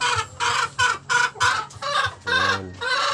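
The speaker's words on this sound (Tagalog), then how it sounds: "pagkain naman tayo sa mga alagang manok" Backyard pet chickens cluck busily at feeding time, a series of close, loud squawks and clucks in short bursts with one drawn-out call near the end.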